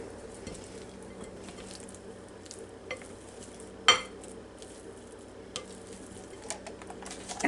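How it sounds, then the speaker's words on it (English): Potato salad being stirred with seasoning, soft scraping and squelching strokes in a bowl with a few light clinks of a utensil and one sharp knock, quiet and close, no speech. "we'll just stir this up right quick"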